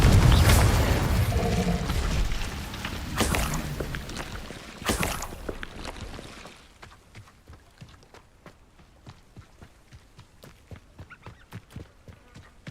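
A Confringo blasting spell in Hogwarts Legacy lands as loud, heavy booms and bursts at the start and again a few seconds in, then the clip fades to quieter game ambience with rhythmic footsteps.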